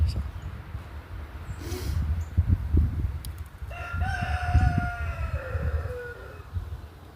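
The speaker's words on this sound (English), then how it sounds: "You can listen to the star of the show back here, this obnoxious rooster that I have." A rooster crows once, a long drawn-out call from a short distance, after a stretch of low murmuring talk and background noise.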